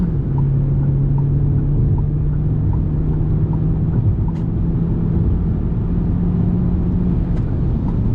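A Fiat Toro Freedom T270 pulling hard at full throttle in sport mode makes a steady, loud cabin engine drone with a low rumble that holds from start to finish.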